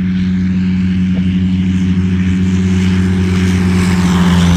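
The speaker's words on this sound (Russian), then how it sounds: "завел Rotax, жужжит. Высунул винт, крутится и лети куда хочешь." Rotax engine of a Stemme S10 motor glider running steadily with a propeller drone, loud and close, droning at a constant pitch throughout with no speech.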